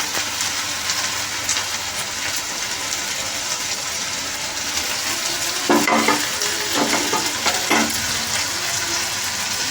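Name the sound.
stirring fried chicken leg pieces in a pan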